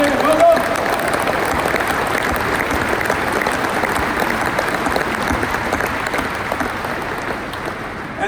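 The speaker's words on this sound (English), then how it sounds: "I would like to have applause for Friede Ogier, Bram Bouwers and Dick Jans" A large audience at KLM's 100-year celebration party claps in a steady, dense wave that stays even throughout and fades slightly near the end.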